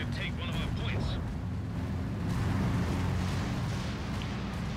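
An artillery barrage in Company of Heroes 2 rumbles as a continuous heavy low roar of overlapping blasts, with a few sharper bursts early on, rolling on without pause.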